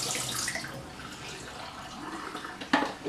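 Water poured out of a film developing tank, a rushing, splashing stream that runs steadily before ending in a short sharp splash, with no talking.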